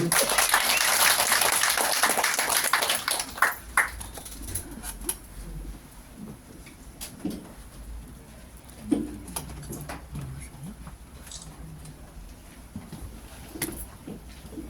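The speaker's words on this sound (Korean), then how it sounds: "큰 박수로 맞이해주시기 바랍니다." Applause from a party audience welcoming a speaker at a sixth-anniversary event, loud and dense at first, then thinning into scattered claps and patter that fade under quieter room sound.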